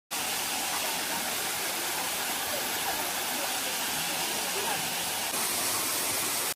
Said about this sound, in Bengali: আর এটাও কিন্তু একটা ওয়াটারফলস